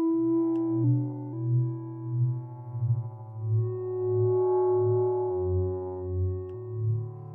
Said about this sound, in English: Let's go through some of these LFOs. We're set to a sine at the moment.